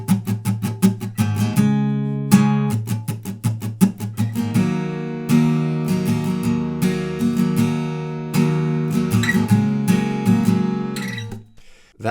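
Strummed acoustic-style guitar chords from a song, the first line of the progression played in a steady strumming pattern with crisp, rhythmic strokes, close and alone without any voice.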